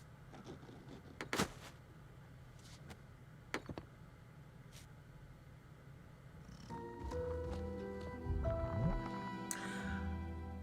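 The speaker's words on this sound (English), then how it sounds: "Because it is a giant demon cat" Soft, steady purring from a giant demon cat in an animated film, building in the second half under music-like tones, with faint clicks and thumps earlier and no talk.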